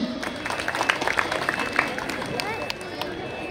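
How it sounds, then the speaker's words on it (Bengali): An audience claps loudly in sustained, dense applause at a school reunion, many hands together from close by, with some voices in the crowd underneath. "একটা জোরে করতালি"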